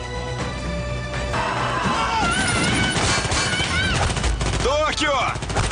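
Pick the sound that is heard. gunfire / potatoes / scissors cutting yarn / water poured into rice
gunfire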